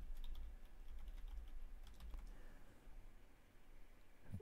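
Password being typed on a computer keyboard, a quick run of soft key clicks that fades out, with a low hum underneath and no talking.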